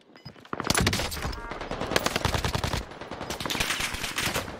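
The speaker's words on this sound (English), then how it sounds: "why are you shooting me from another angle?" Dense rapid gunfire in the video game Warzone, loud automatic bursts firing almost continuously with brief gaps, close and dominating the mix.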